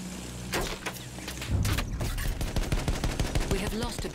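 Sustained gunfire in the Battlefield 1 shooter game, a dense rapid crackle of shots that thickens halfway through into a steady stream of close, loud bursts, with a low battlefield rumble underneath.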